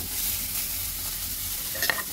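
Mustard paste being mixed with salt, turmeric and chili, a short continuous scraping and stirring hiss with one brief sharper clink near the end, no talking.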